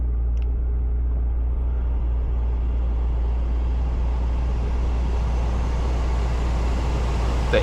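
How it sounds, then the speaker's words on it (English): Air conditioning roars hard inside a Porsche rented in Japan, a loud, steady blowing rush that holds evenly throughout with low rumble beneath and no talk. "The AC is going crazy"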